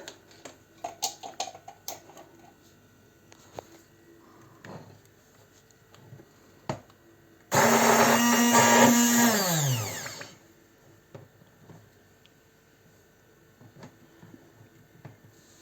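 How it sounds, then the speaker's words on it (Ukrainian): An immersion blender's motor whirs loudly for about three seconds while blending homemade tomato paste, starting abruptly and winding down, with quiet kitchen noises before and after. "Погружним блендером буду"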